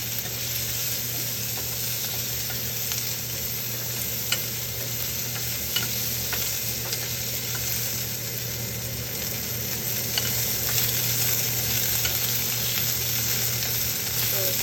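Chopped onion frying in oil with ajwain seeds and ajwain leaves, giving a steady, close, even sizzle that hisses on without a break and has faint ticks of stirring.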